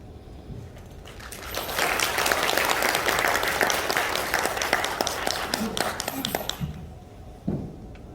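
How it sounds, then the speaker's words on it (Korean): An audience at a church couples' retreat claps to welcome a pastor to the stage, dense applause swelling quickly and holding for about five seconds before fading, with brief talk at the edges. "우리 나오실 때 손뼉 치면서 환영하도록 하겠습니다."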